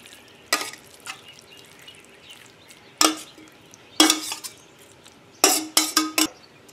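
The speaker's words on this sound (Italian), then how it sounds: "Metto la pasta in una pirofila da forno." Pasta being put into an oven baking dish, heard as several sharp clinks and scrapes of a utensil against the dish, spaced out, then a quick cluster of knocks near the end, close with no talking.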